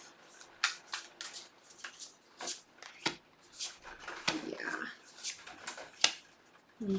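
Tarot cards are shuffled up close in a series of soft, quick riffling and slapping bursts with short pauses between them, fairly quiet, with no talk over them.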